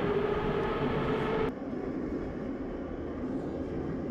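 Moscow metro train on Line 6 in the video game Metro Simulator 2, a steady rumbling rail roar with a higher whine that cuts out abruptly partway, leaving a lower continuous running rumble.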